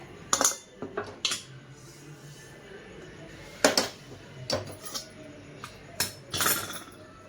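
Roasted flattened rice (poha), cooked for thalipeeth flour, is scraped out of a metal pan. Sharp clinks and scrapes of the spoon against the pan come in scattered bursts, close and fairly quiet.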